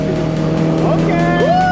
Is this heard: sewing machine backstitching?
no